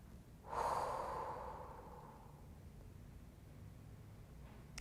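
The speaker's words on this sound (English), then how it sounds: "Breathing in and out." During a stretching session, one slow, close breath fades gradually into a quiet hiss of room tone, soft and unhurried with no talking.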